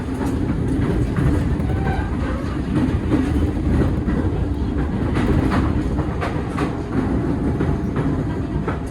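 KA Kertajaya passenger train rolling through Pasar Senen station without stopping, a steady loud rumble with rhythmic clickety-clack of wheels on rail joints, close by and continuous.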